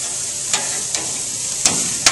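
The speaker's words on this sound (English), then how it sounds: "Trying to get these steaks perfectly seared" Steaks sear in a hot pan with a loud, constant sizzle, broken by a few brief scrapes and taps of a utensil against the pan.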